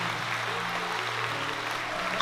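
A church congregation applauds during a French-language sermon, a steady, even wash of clapping with a faint tonal hum underneath.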